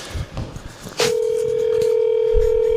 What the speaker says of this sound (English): He's calling his girl.